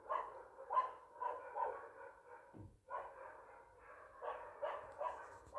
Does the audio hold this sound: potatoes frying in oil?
no